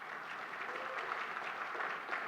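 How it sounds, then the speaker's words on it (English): Audience applause for Nate at a Costa Mesa street medicine press conference, a continuous moderate round of clapping with a faint voice underneath. "will you just stand so we can give you a robust round of applause?"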